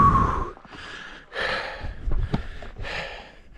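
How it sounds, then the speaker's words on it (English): A hiker catches their breath after a short hike, with several heavy gasping breaths in an uneven rhythm, close and fairly quiet, separated by short pauses. "Heavy breathing noises."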